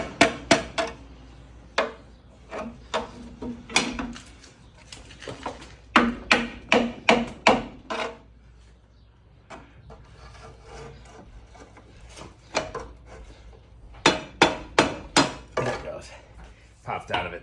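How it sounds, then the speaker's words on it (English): Sharp metallic hammer taps strike a vehicle driveshaft part during a U-joint repair, coming in quick bursts of several blows with short pauses between, close and loud. "Might take a few hammer tabs."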